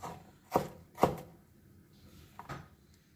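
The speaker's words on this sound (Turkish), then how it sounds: "soğanlarımı şimdi doğrayacağım" Two sharp knife chops through onion on a cutting board about half a second apart, then a softer chop, close and otherwise quiet.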